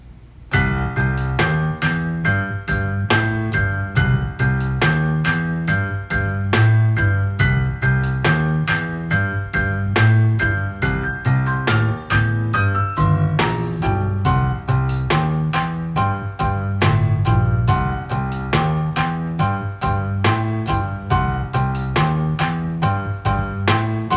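A Korg PA1000 arranger keyboard plays a full arranged style, with steady drums, bass and layered chords driving along in a dense, continuous groove at a loud, close level, with no talking over it.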